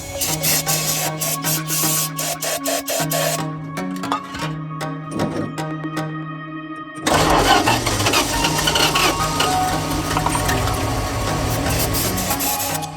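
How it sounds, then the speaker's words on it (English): Old Dodge D-600 truck engine left abandoned for 23 years being cranked and fed brake cleaner, a steady mechanical hum and whir that cuts out briefly, then a louder, rougher running roar close by. "I'll use the brake cleaner to keep it running, and we'll see if that fuel pump wants to pump."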